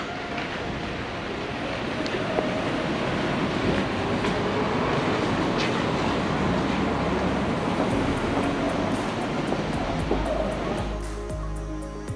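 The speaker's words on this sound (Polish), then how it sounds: "stację kolejową" A train rumbles steadily for several seconds at a railway station in Royal Tunbridge Wells, England, with a broad, continuous roar, then a brief tonal hum and low thrum near the end.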